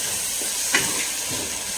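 Biryani masala gravy for Hyderabadi mutton biryani sizzles in a pan over high flame, a steady close hiss with one brief scrape of stirring, and no talking.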